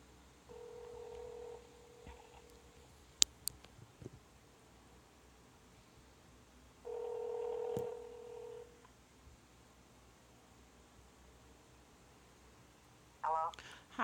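A phone placing a call back: two electronic tones lasting about two seconds each, separated by a long quiet stretch with faint clicks, then a short burst of sound at the end.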